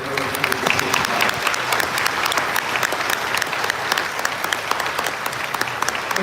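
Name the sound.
applause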